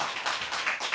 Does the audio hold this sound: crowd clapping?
yes